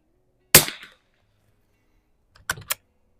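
An old Mossberg 146BA rifle fires one sharp, close shot, followed a couple of seconds later by a quick pair of metallic clicks.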